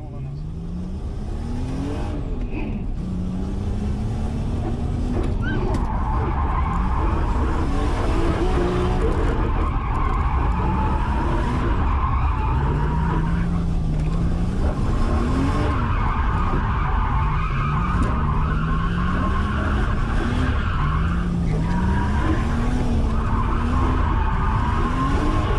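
Drift taxi car skidding through repeated slides, tires squealing in rising and falling waves over a loud, steady engine roar that revs up and down across the run.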